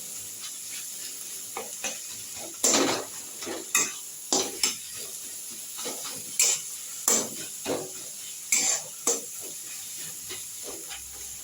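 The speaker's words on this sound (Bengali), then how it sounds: "এটা এরকমভাবেই একটু ভাজা ভাজা হবে।" Food fries in a pan with chili powder while a utensil stirs and scrapes the pan in repeated sharp strokes over a steady, soft sizzle.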